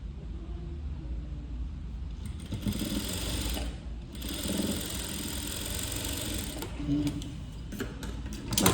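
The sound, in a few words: sewing machine stitching a puff sleeve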